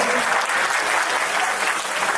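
Warm audience applause fills a banquet hall at an Indian Republic Day celebration in Surrey, a dense, steady wash of many hands clapping close and loud for the full stretch.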